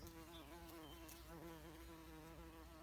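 A bumblebee buzzes steadily among garden flowers, a close, continuous droning hum with a slightly wavering pitch and no talk.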